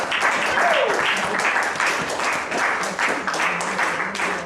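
Audience applause at a poetry slam, a steady wash of many hands clapping that holds through the whole stretch at moderate loudness.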